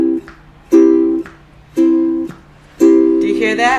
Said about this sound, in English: I'm muting with my right palm.